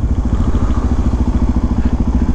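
A small motorcycle, a Kawasaki Z125 or Suzuki DRZ400SM, rolls in neutral with its single-cylinder engine idling in a steady, loud, close thumping rhythm.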